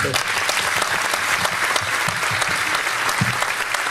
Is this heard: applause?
yes